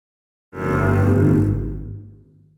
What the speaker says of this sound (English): For the lower register scrapes, I'm going to use this morgue scene